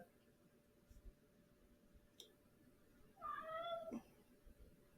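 A cat lets out a single drawn-out meow late in the clip, fairly close but soft, against a quiet room with faint background noise.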